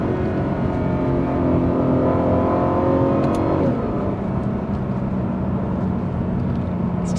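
Lexus RC F with a V8 engine revving hard and banging off the rev limiter, a loud, steady engine roar that holds high, then drops in pitch partway through and keeps droning.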